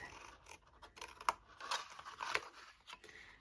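Scissors snipping along score lines in cardstock for a Stampin' Up long box, a run of quick close cuts with small crisp crunches, no talking.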